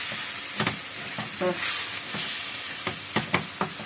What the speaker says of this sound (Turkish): Bunları iyice kavurmam lazım.